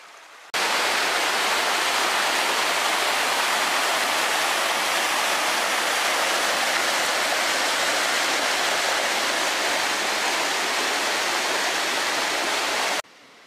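Head Creek in Algonquin Park rushes steadily in a close, loud wash of flowing water that holds constant for about twelve seconds, with no voices present.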